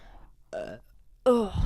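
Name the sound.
burp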